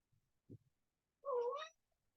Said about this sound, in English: And I have a kitty joining the class.